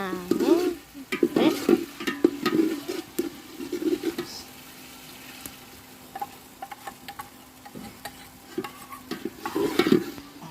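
Egg bhuna is stirred and fried in a pan at home, with rhythmic scraping strokes over a soft sizzle, a quieter pause midway, then more stirring close by.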